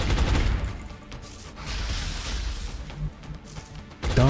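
Bursts of gunfire and impacts in an XCOM turn-based combat game, a loud volley at the start, scattered shots in the middle and another sharp burst near the end.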